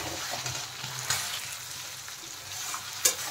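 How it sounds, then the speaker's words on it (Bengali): Potatoes and spices sizzle in hot oil for an egg curry, a steady close crackle with a couple of sharper scraping stirs, no voices. "দেখেন মশলার সাথে কিন্তু আলু খুব ভালোভাবে কষানো হয়ে গেছে।"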